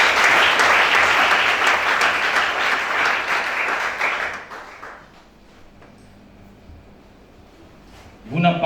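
A church congregation applauds loudly and steadily for about four seconds, then the clapping fades into quiet room tone before a voice begins speaking at the end.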